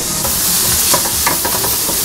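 Pieces of tenderloin sizzling loudly in a pan, a close, steady hissing roar with small spatters and no voices.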